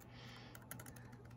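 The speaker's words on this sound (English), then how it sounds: "I'm typing" Key clicks from a wired Macally or Apple keyboard plugged into a Windows PC, a quiet run of quick taps with a few sharper strokes near the middle, heard alone over a low steady hum.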